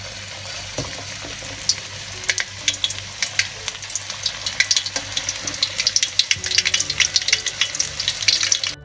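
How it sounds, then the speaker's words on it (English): Tuna pieces coated in flour frying in a pan of hot oil, a steady crackling sizzle with dense pops and spits that grow busier and louder toward the end, with no talking. "You have to fry the tuna into the pan."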